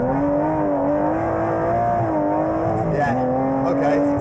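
An Aston Martin Vantage GT12 V12 howls loudly on a track, a sustained close engine note that rises and dips as the revs shift, with a brief lift around the three-second mark and no talking.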